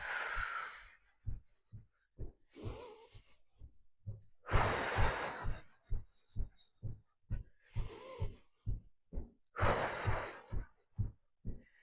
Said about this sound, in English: Deep breaths in through the nose and out through the mouth.